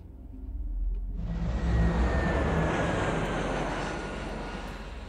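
An aircraft takes off in the strategy game Alpha Centauri with a loud, close engine roar that swells within the first second and holds steady before easing slightly over about five seconds.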